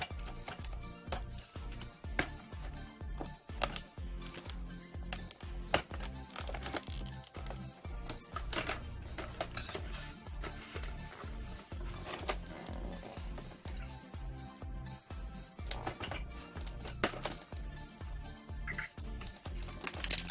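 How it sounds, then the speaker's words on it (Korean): Plastic packaging on a transforming toy race-car robot being cut with scissors and torn open, a busy run of crinkling, snipping and crackling handling noises close by, fairly quiet, with no one talking. "가위로 잘라서 네 개봉을 해보도록 하겠습니다"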